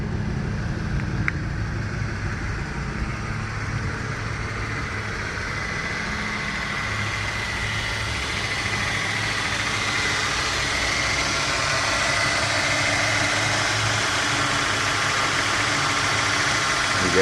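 A 1999 Ford Mustang V6 idles steadily with a low, continuous engine rumble, close and moderately loud, with no talking over it. The car has a replaced distributor coil and a cold air intake.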